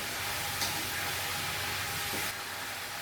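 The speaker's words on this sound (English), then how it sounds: "So just keep stirring your mushrooms over a medium to high heat until they break down." Mushrooms stirred in a hot pan over medium-high heat with no oil, seasoned with Bragg's aminos for a vegan stroganoff, giving a steady, close sizzle and hiss that holds level throughout with no voices.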